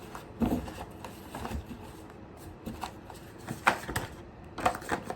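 Tarot cards are shuffled in quick papery riffles and soft flicks, quiet and close, with brief pauses between bursts.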